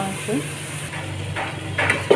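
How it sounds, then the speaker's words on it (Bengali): Beef stir-fried in a pan sizzles at close range under the scrape and clink of a stirring utensil against the pan, with a few sharper metallic taps. "মাংসটা ভালো করে কষিয়ে নিয়েছি।"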